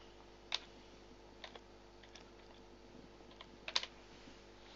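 A few faint, sparse keystrokes on a computer keyboard as a new label is typed, with soft isolated clicks over quiet room hiss.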